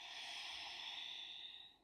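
One steady, airy exhale from a person doing a breathing exercise, held evenly at close range for nearly two seconds before tapering off at the end.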